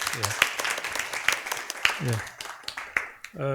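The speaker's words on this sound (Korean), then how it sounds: "박수 좀 부탁드리겠습니다." Audience applause greets a technical presenter introduced at a Korean privacy forum, light scattered clapping heard alongside speech and voices throughout.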